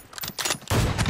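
Gunfire in a shooter video game match: rapid bursts of shots, then a dense sustained volley, loud and close with no talk.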